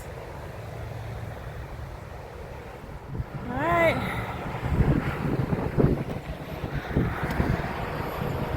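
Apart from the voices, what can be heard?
wind blowing into microphone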